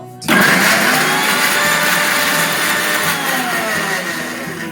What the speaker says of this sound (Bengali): এবার এটা আমি ভালো করে ব্লেন্ড করে নেব।